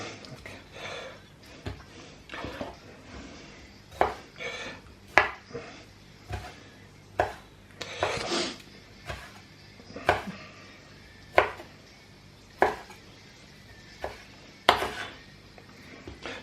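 A knife chops cherry tomatoes on a cutting board while guacamole is made. The sharp, distinct chops come steadily, a little over one per second, close and clear against a quiet kitchen background.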